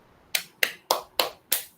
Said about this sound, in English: So everyone clap for the Jasna.